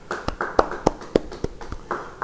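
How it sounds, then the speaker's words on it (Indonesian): Congregation clapping during a church sermon: a handful of sharp, evenly spaced claps over a steady low hum, moderately close. "beri tepuk tangan bagi dia"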